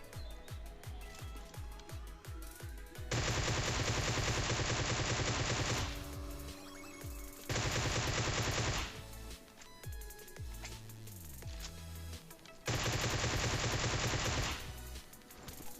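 Gunfire from AWM and Groza rifles in the PUBG video game: rapid automatic bursts in long loud stretches, with single sharp shots between them and no talking.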